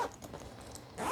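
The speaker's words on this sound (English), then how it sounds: "So we'll go ahead and get this zipped up" A zipper pulled along a brand-new Gibson Les Paul Classic reissue guitar case: a steady, close rasping run that ends in a louder final tug.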